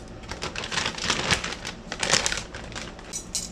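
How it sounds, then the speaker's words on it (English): Dry, cut-up eucalyptus leaves are spooned into a herbal tea mix, making close crinkly rustles and light crunching bursts that rise twice and then settle, with no talk over them. "These are cut up eucalyptus leaves, and we're going to put a heaping tablespoon of those in there"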